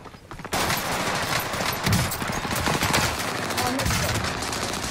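Automatic gunfire in Call of Duty Warzone, a loud, dense continuous burst of rapid shots with a dull rumble beneath, starting abruptly after a brief quiet moment and holding steady to the end.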